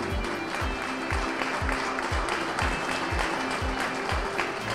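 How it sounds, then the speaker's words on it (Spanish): An audience at a recognition ceremony for excellent students applauds, and the steady clapping holds at an even volume for the whole stretch, with no voices over it. "Así que ellos se merecen un fuerte aplauso."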